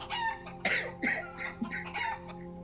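A stand-in for a rooster's crow, played during a farm-building game session: a series of loud, raspy, crow-like calls and clucks over a steady background hum, close and repeated across a couple of seconds.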